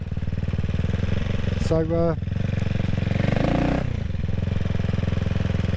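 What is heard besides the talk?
CCM Spitfire Six motorcycle engine running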